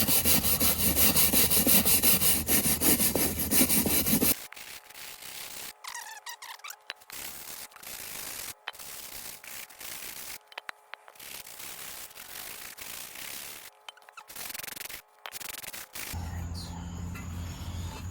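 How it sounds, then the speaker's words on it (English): A scraper is worked over a Ford F250 rear differential cover to remove old grease and grime, giving a loud continuous rasp followed by a series of shorter, choppy scraping strokes separated by brief pauses. "scrape all this off"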